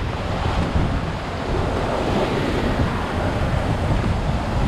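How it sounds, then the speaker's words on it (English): Strong wind of about 30 knots roars over a sailboat at sea, a loud continuous rush of buffeting wind noise with the wash of water beneath it and no voices. "It's 30 knots apparent wind right now."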